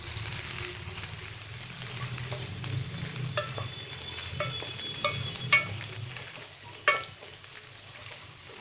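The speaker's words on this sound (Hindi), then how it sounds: "अब अनियन हम डाल देंगे। फ्लेम मैंने फुल कर दी है और इसको थोड़ा सा हम फ्राई कर लेंगे।" Onions sizzle steadily in hot oil over a full flame with cumin seeds, bay leaf and cinnamon stick, a continuous frying hiss broken by a few clinks and stirring scrapes.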